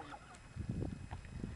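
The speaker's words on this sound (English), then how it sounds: "we are completely surrounded by ducks, geese, and peacocks." Geese, ducks and peacocks at Floyd Lamb State Park, with a few short, close honking fowl calls bunched together over a low rumble.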